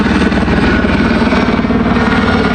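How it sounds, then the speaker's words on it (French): Low-flying helicopter passing at night, a steady loud throbbing rotor drone filling the whole moment with no voices. "il y a un hélico qui vole à basse altitude"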